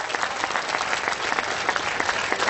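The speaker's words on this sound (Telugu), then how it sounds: "ఎంత గట్టిగా చప్పట్లు కొట్టి అంత జల్లి పైకి వేస్తారు." A crowd applauds loudly and steadily at a logo unveiling for a clean Hussain Sagar campaign, with dense, continuous clapping from many hands throughout.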